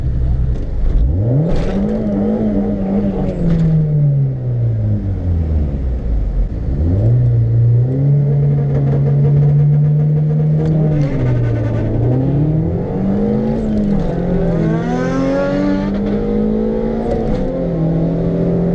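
A stock LS-swapped Honda EF hatchback at a quarter-mile drag strip roars loudly and close, revving through rising and falling gear changes over a sustained engine drone.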